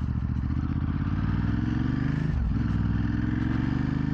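Ducati Hypermotard 939 SP motorcycle being ridden, its engine thrumming steadily with a slight dip in pitch partway through, plus faint road clatter and wind, with no talking.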